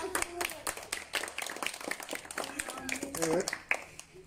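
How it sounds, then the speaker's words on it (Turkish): Audience clapping at a prize-giving for a school writing contest, a scattered burst of hand claps running throughout, mixed with overlapping voices. "Tekrar alkışlıyoruz."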